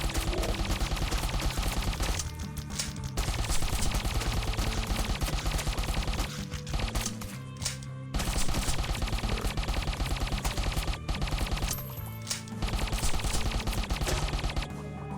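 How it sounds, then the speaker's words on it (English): Automatic turret gunfire in the top-down shooter Crimsonwood, a loud sustained rattle of rapid shots with only brief pauses. "Let's go ahead and set up a turret here."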